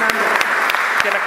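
Church congregation clapping together at a Hungarian healing prayer service, a loud, fairly rhythmic run of handclaps with sharp accents roughly every third of a second.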